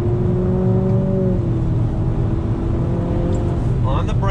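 2020 Nissan Altima VC-Turbo accelerating hard in second gear on a track, a close, droning engine note holding steady pitch, with a brief voice breaking in near the end.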